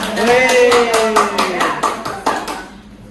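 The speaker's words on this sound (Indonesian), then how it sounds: "tepuk tangan dulu buat Miss Cepaka" A classroom audience gives a round of applause for Miss Cepaka, steady clapping with sharp taps throughout and a voice talking over it, fading near the end.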